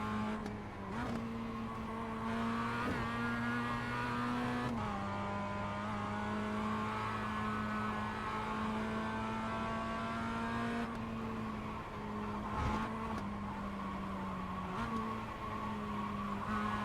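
Mazda MX5 race car in the iRacing sim, engine droning steadily with pitch shifts and brief dips as it downshifts through a corner at the Charlotte Roval, tires faintly squealing, no talk.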